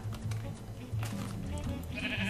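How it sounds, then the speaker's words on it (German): Sheep bleat several times at moderate distance in the video game Minecraft, overlapping with soft background game noise; no speech. "Tun wir noch ein paar Schafe ernten."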